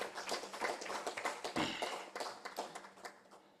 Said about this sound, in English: allow me to request the House to give the Honourable Minister another round of applause for being very knowledgeable